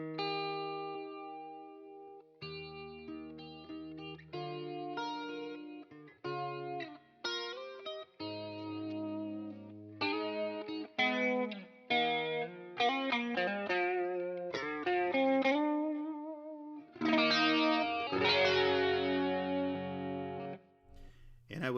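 A clean electric guitar tone with chorus effect through a Headrush Gigboard, picked as melodic single notes and arpeggiated chords with pauses, shimmering and close, no talking.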